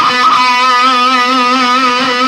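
Electric guitar plays a sustained pentatonic phrase with hammer-ons and pull-offs, slightly driven tone, smooth legato notes ringing steadily and loud without any voice.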